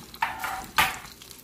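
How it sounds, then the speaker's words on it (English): Chicken pieces sauteing in a hot pan, giving two short bursts of sizzling as the meat is stirred or turned, close and fairly loud with no voices. "We're not deep frying here, we're sauteing."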